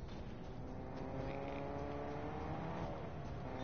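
A car in the game Fortnite drives with a steady engine drone and tire hiss, fairly constant and moderately distant, heard alone without voices over it.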